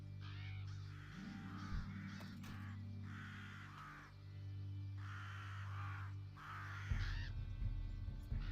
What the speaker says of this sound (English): I love how there's like the crows.